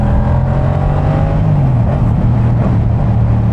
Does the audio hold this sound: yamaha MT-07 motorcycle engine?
yes